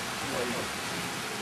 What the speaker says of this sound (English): We're getting rain now.